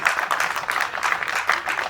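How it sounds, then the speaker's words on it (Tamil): Crowd applause at the audio launch of the Tamil film Leech: a dense, steady patter of many hands clapping that continues without a break for the whole stretch, with no voices over it. "கொஞ்சமாக அது கைத்தட்டுங்க"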